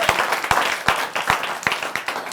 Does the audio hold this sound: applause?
yes